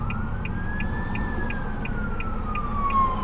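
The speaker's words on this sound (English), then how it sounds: "I hear the ambulances." An ambulance siren wails somewhere behind, a slow rising and falling tone that carries under the steady rumble of passing road traffic at moderate distance.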